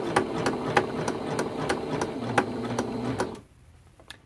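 A sewing machine stitches quilt binding in a steady, close mechanical whir with regular needle ticks, then stops near the end, leaving a quiet room with a few faint taps.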